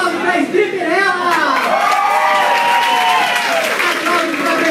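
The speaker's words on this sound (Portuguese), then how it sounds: "Aplausos para Stripperella!" Applause and cheering for Stripperella at the end of a nightlife show, a loud continuous crowd roar with whoops and shouts throughout, close and dense.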